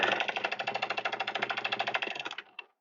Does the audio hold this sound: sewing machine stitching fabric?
yes